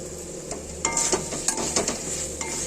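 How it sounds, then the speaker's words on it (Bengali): Chicken pieces added to a pan of spinach gravy with spices and kasuri methi and stirred while cooking, giving a soft steady sizzle with scraping stirring strokes and light utensil clinks, close and moderately loud, no talk. "এই চিকেনগুলো আমি এবার দিয়ে দেব।"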